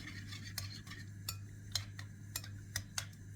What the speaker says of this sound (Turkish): kaşıkla şöyle bir onları karıştıralım